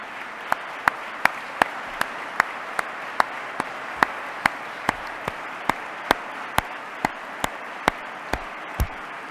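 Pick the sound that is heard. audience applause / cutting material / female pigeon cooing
audience applause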